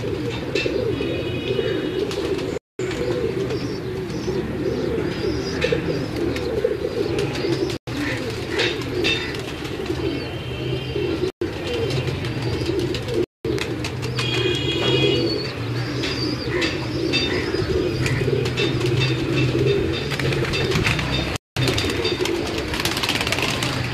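Pigeons coo on a rooftop, with steady overlapping throaty coos and scattered chirps close by, the flock's low murmuring running throughout with a few brief gaps.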